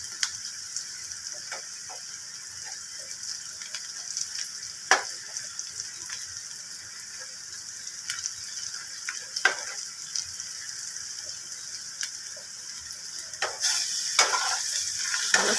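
Onion fries quietly in oil with turmeric and salt, a low sizzle under repeated clicks and scrapes from a spoon stirring the pan, with a few sharper knocks and a louder stir near the end.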